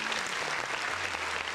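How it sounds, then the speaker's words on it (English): Steady applause from a crowd, continuous clapping at moderate volume for a brief stretch with no pauses. "another round of applause"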